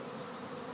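Honey bees hum and buzz at an opened beehive during a spring hive inspection, a steady close drone that fills the whole short moment with no voices.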